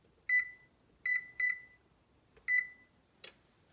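Oven control panel beeping as it is set to preheat: four short, clear electronic beeps at uneven spacing, the middle two close together, then a brief click, in a quiet room.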